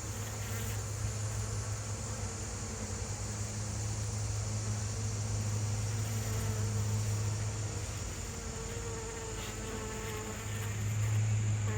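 Honey bees in an open, queen-right beehive make a steady, dense buzzing drone that holds evenly throughout, close and continuous with no talking.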